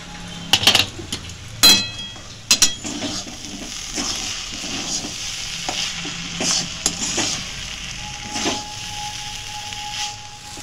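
Veg Maggi noodles being stir-fried in a wok. A utensil scrapes and clatters in uneven bursts over a soft, steady sizzle close by.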